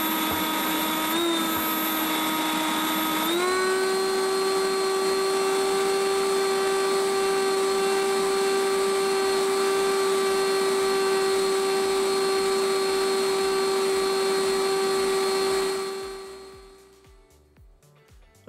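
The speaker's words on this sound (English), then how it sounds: "here are some videos to show you how it looks and how it sounds in operation" Ryobi RY40470VNM 40V brushless battery leaf blower running alone, starting with a whine that steps up in pitch after a few seconds, then holding a steady, loud, close high-pitched whir before cutting off and spinning down.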